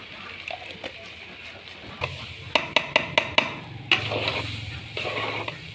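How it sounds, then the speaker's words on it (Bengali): Rice frying in ghee in a pot for biryani, a low sizzle broken by a quick series of sharp spoon clanks against the pot as it is stirred, then louder scraping and splashing. "ওদিকে চাউল ভাজা হচ্ছে"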